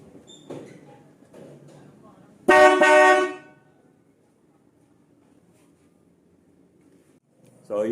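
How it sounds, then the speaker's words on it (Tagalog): Four Mitsuba turbine horns fitted to a Toyota Rush give one loud, brassy, multi-tone blast of about a second, followed by quieter background noise. A second blast starts at the very end, and a voice talks softly before the horn sounds. "4 pieces turbine horn na nakakabit sa Toyota Rush."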